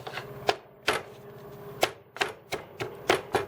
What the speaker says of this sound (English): And we're gonna continue to mash it.